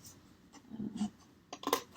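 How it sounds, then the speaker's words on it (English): Quiet snipping and crunching as scissors work through stiff cardboard, a few separate cuts with pauses, close by and fairly soft. "Cardboard can be a little tricky to cut with scissors."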